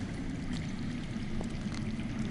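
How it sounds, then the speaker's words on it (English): Flowing underground water in a Game of Thrones adventure video game, a steady continuous rushing and gurgling wash with low rumble, even and unbroken throughout, with no speech. "That's water. I hear water. From underground."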